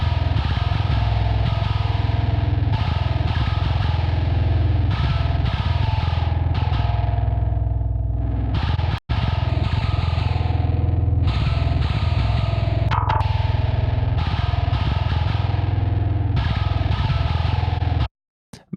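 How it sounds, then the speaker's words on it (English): A heavily processed bass guitar from a mix, compressed in the low and high ends with distortion on the top, plays a dense, loud, continuous grinding riff that stops briefly midway and cuts out at the end. "there's low-end compression, there's high-end compression, and there is distortion for the high end"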